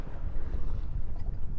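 Steady wind roars and buffets the microphone aboard the sailboat Viktoria on a passage to Finland, a continuous low rush with no talk.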